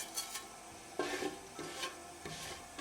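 Cumin seeds crackle faintly in a film of olive oil in a fry pan while a utensil scrapes and stirs them in a few soft, irregular strokes, fairly quiet and close.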